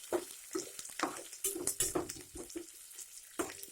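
Ingredients for tomato upma fry in a pan with a steady sizzle, broken by scraping stir strokes and light clinks of a utensil against the pan, close and moderately loud.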